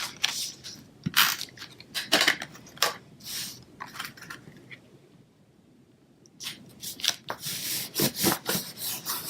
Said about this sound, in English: Alright, and I'll give it a good rub down.